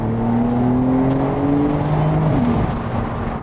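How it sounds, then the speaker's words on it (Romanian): Porsche 911 992 Carrera 4S with all-wheel drive, driven hard, a loud engine note climbing steadily in pitch under acceleration, then a gear change and renewed pull, heard from inside or near the car with no talk. "Acest sistem de 4x4 te face să poți să mergi cu mașina asta tare"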